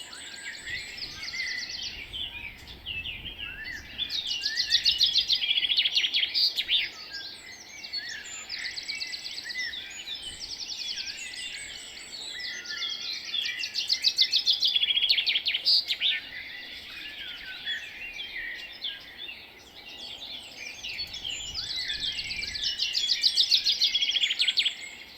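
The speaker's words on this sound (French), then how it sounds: "Est-ce que tu peux juste me dire si tu entends des petits oiseaux en fond sonore?" Small birds chirp and twitter continuously in the background, a busy layer of high, overlapping calls that swells and fades over about 25 seconds, with no talking.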